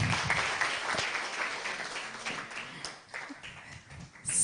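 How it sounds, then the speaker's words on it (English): Audience applause at an awards event, a fairly quiet scatter of clapping hands from a crowd lasting a few seconds and fading slightly toward the end. "A better clap for Gabriel."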